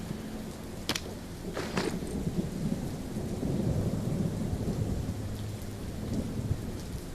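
Storm ambience in The Walking Dead video game: loud, continuous rain with a low rolling thunder rumble that swells in the middle, plus a few sharp crackles early on. Nobody speaks.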